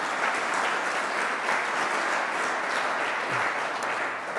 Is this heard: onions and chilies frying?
no